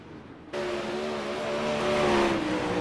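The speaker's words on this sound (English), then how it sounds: "We only got a couple of cars still going around out here." Race cars circle a track late in a race, a loud engine roar rising suddenly and building as a car accelerates past nearby, with no voices over it.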